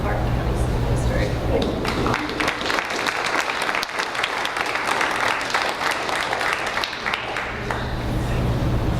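An audience at a Clarke County school board meeting claps steadily for several seconds, a dense continuous burst of applause that holds its level throughout, with a voice briefly audible near the start.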